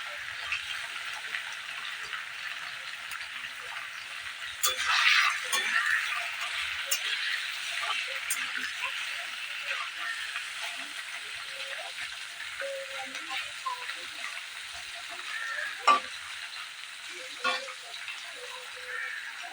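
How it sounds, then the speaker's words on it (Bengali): Paneer being lightly fried in a pan gives a steady, soft sizzle with faint crackles, fairly quiet and continuous, with a brief louder burst partway through. "তা হালকা করে আমি পনিরটাকে ভেজে নেব।"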